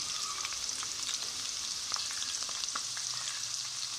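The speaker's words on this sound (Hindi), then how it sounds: "भिंडी को हम थोड़ा पहले फ्राई कर लेंगे।" Okra fries in hot oil in a pan for a pickled okra dish, a steady bright sizzle with faint stirring clicks, quiet and continuous with no talking.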